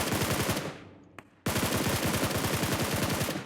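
Rapid automatic gunfire from a PUBG Mobile match, fired at a bot: a loud sustained burst of dense shots, a brief pause with a faint single report, then another long continuous burst, with no talking.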